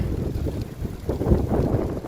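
Wind gusts buffet the microphone in low, rumbling surges, rising and falling over a couple of seconds with no voices, on a cold spring day in the Netherlands.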